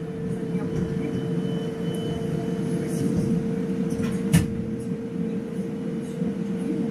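Airport rail shuttle at Sheremetyevo pulling away from a terminal station, a steady low rumble and hum of the moving carriages with a constant tonal whine and one brief clunk midway, heard from inside the train.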